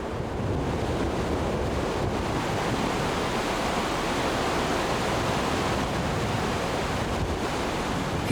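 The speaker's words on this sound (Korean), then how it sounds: "귓가를 때리는 장쾌한 물소리까지 없었다면 새하얀 고요 속에서 방향을 잃고 헤맬 뻔했다" Loud rushing river water in the snowy Himalayan Langtang valley, a dense, steady roar that stays constant from start to finish with no voices.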